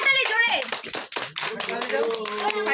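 Scattered hand clapping from a small group at a home game-show style game, mixed with overlapping voices and children talking.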